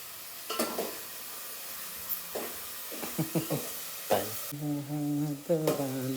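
Spoon scrapes and stirs a mixture in a pan over a gas flame in a series of short, close strokes with faint sizzling between them; a voice speaks briefly at the end.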